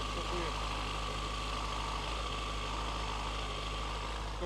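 A Yamaha FZ6S motorcycle with 11,000 km on it idles in a steady, low rumble continuously throughout, with a constant mechanical hum and slight vibration and no breaks.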